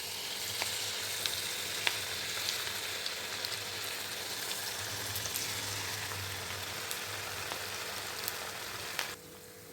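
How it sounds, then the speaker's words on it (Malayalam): Beef pieces frying in hot oil for Dragon Beef: a close, steady crackling sizzle with small pops that runs for nearly ten seconds, then cuts off abruptly. "നമുക്ക് ചൂടായ എണ്ണയിൽ ഇത് വറുത്ത് കോരാം"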